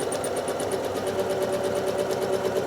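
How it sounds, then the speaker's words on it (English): A sewing machine runs steadily while stitching a rail fence quilt block, a continuous close whir with a fast, even needle rhythm and no pauses. "I'm going to try and stitch these with the block facing one direction."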